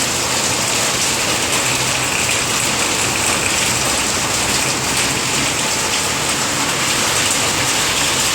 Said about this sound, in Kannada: ಜೋರಾಗಿ ಮಳೆ ಬರ್ತಾ ಉಂಟು ನೋಡಿ.